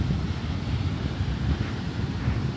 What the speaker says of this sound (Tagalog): Malakas-lakas ang alon ng beach ah.